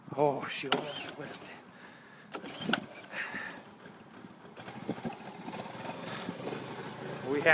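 An old Honda snowmobile engine idles with a steady, busy mechanical drone just after starting, close and continuous, with voices around it.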